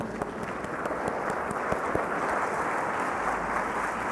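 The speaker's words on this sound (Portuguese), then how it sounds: "Uma salva de palmas para o camponês." Applause from the audience at a motivational leadership lecture in Sombrio, Brazil, a fairly quiet, steady patter of clapping with a few sharper individual claps standing out, heard without talk.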